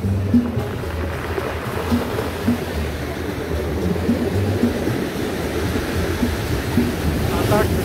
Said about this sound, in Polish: Ocean spokojny.